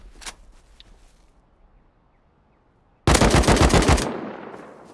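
Gunfire in the video game Rust: a lone early shot, a quiet stretch, then a sudden loud, rapid automatic burst lasting about a second that fades into a ringing echo.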